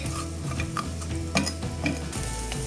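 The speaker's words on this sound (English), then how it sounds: "We're going to give this a quick stir, get the oil onto all of these ingredients that we've got in here." Onions being stirred in hot oil in a pan give a steady sizzle broken by several scraping, clinking stirring strokes, close up and without voices.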